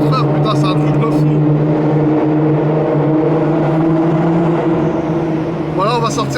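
Loud Nissan GT-R with a 1500 hp engine crawls through town streets, its deep droning exhaust steady and close throughout, with voices talking over the heavy rumble.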